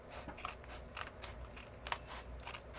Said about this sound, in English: I'm going to cut off the bottom by just cutting barely along